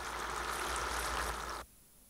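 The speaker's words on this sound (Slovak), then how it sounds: "Teraz už môžeme pustiť dažďovú sprchu." A rain-shower effect pours out as a steady, loud, close rushing hiss of falling water. It runs for about a second and a half, then cuts off abruptly into near silence.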